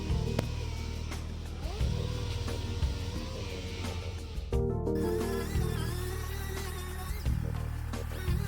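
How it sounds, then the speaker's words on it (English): Power sanding of the rubstrake and floor surfaces of an inflatable boat: a continuous whirring tool drone with rising and falling pitch and occasional bumps as it moves over the material, close by. "now I'm going to get the rubstrake surfaces all roughed up, so this way, once again, glue has something to bite into"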